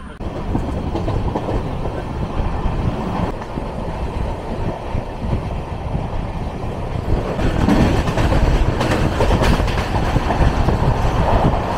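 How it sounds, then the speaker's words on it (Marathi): Konkan Railway train 10115 from Bandra Terminus rolls along the tracks past Borivali, a steady loud rumble and clatter heard from inside the coach, growing slightly heavier toward the end. "बोरिवलीवरून ही ट्रेन सुटलेली आहे।"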